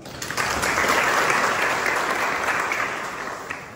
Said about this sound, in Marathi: त्यांच्यासाठी सगळ्यांनी टाळ्या वाजवा